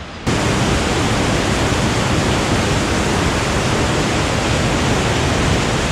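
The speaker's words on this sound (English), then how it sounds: "This heavily wooded valley has a fast running river" Fast-running River Kennall rushes through a heavily wooded valley, a loud, steady broadband roar of water that holds constant from start to end with no talk over it.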